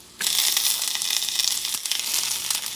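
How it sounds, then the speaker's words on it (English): Mushrooms and peppers hitting hot olive oil in a pan, a loud, bright sizzle that starts abruptly and holds steady with crackling spits, close and alone without talk. "And you're going to saute them for a few seconds."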